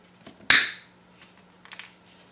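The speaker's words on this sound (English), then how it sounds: "I just snip them off" Cutters snip a small plastic model ship part off its sprue on a tabletop: one sharp, bright click near the mic, followed by faint handling taps, with a low steady hum beneath.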